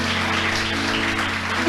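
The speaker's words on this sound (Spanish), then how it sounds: "¿Cuántos le aplauden a Dios y lo creen?" Steady applause from a church congregation fills the space, with a sustained musical hum underneath.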